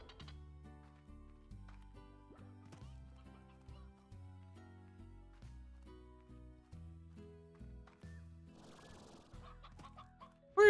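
Hens from the video game Slime Rancher clucking in a repeated stream of short, soft calls layered over each other, faint throughout.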